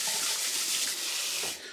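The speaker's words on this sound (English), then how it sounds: "I'd also recommend as well rinsing your rice with cold water." Cold tap water runs and splashes steadily over rice being rinsed, a continuous broad hiss of spraying water for a moment with no talk.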